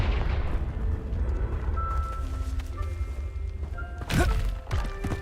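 A Confringo spell blast in Hogwarts Legacy, a heavy fiery boom landing over a rumbling, busy battle backdrop, followed by a second smaller thud.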